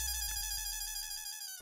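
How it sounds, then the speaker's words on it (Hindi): A phone ringtone sounds, a sustained electronic tone with stacked harmonics, playing alone and fading slightly toward the end. "मैं अभी अंजलि भाभी को फोन करती हूँ।"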